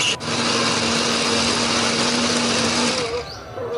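Blender grinding a spice paste of garlic, shallot, ginger, turmeric and coriander with added water or oil, a loud steady high-pitched whirring motor held close that runs without a break, then cuts out near the end.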